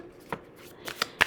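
Tarot cards shuffled and riffled by hand in quick, faint bursts, a few soft flicks and snaps spaced apart in a quiet room.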